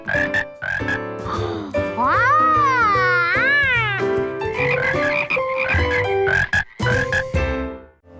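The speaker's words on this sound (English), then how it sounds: "those were some fine frog calls" Frog calls in a Curious George kids cartoon: loud, close croaking and warbling sweeps that rise and fall in pitch, running several seconds with tonal, almost voice-like quality.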